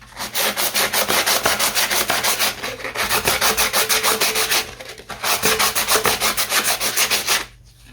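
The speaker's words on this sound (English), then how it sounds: "a little bit of sandpaper." Sandpaper rubbed hard over an empty Frenchic paint tin, loud close rhythmic rasping strokes in quick steady bursts with two short pauses, ending abruptly.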